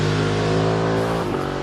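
A Ducati Panigale 1299S motorcycle with a 1285 cc Super Quattro L-twin engine runs at a steady, loud, close idle-to-rev drone, its pitch dipping slightly near the end.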